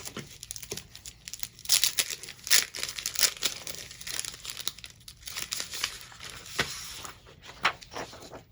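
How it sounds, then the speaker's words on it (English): Sheets of sublimation paper are handled close up and crinkled, giving a dense run of crackling rustles and sharp crumpling bursts with no talking. "this is the sublimation paper that I'm using, and I'll show you exactly why I like this"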